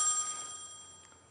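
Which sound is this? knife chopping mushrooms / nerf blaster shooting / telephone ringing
telephone ringing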